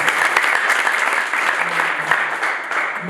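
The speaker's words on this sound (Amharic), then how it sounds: "እስኪ ለሳዳ አጨብጭቡ።" A church gathering's audience claps for Sada, a dense, steady round of applause filling the room from start to finish.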